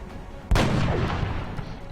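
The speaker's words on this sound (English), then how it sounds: "Sniper wants to kill." A single loud sniper rifle shot in XCOM: Long War cracks out abruptly, then trails into a long rumbling echo that slowly fades.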